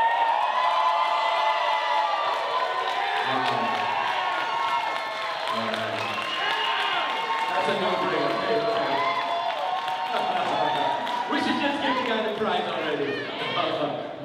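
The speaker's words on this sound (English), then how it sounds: "The loudest cheer keeps them here." A live pitch-event crowd roars, cheers and whoops for a contestant, loud and sustained over the whole stretch, while a voice talks over part of it.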